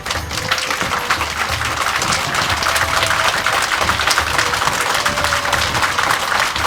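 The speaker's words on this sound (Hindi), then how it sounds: "खड़े होकर जोरदार तालियों से एक बार दीदी का स्वागत" A standing audience at a Brahma Kumaris gathering in Sunni, Himachal, welcomes Didi with loud, dense applause, many hands clapping continuously and close to the microphone, with no voices on top.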